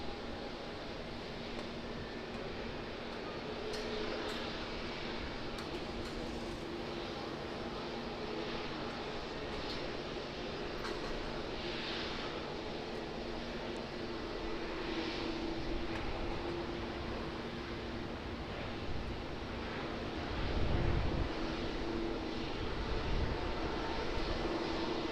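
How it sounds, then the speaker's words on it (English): Qantas Boeing 737-800 with split winglets at Auckland Airport, its jet engines making a steady, broad roar that holds for the whole stretch and swells slightly near the end, heard from a distance outdoors without talk. "QANTAS 737 with split winglets. 737, this is an 800, just to be clear."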